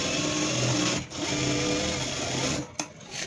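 An electric sewing machine stitches a blouse seam with a close, steady, rapid whirring hum that dips briefly twice in short pauses before running on.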